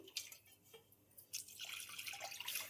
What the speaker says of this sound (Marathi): एक ग्लास पाणी टाकते मी आधी